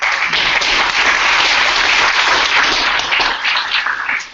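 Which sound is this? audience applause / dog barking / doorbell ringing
audience applause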